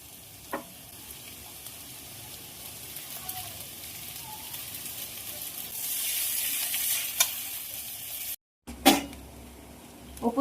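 Chow mein noodles with chopped green chili are stir-fried in a hot pan, giving a steady sizzle that swells midway, with a few sharp clinks of a utensil against the pan and a brief cut near the end.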